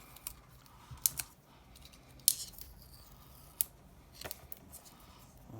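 Scissors snip through packaging on a parcel being unboxed, giving several quiet, sharp clicks and snips spaced irregularly over a faint background.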